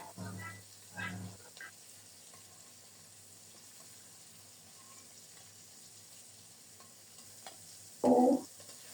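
Sliced green chillies and nigella seeds dropped into hot oil left from frying hilsa and rohu fish, a faint background sizzle with a couple of short stirring knocks at the start and a brief louder burst near the end.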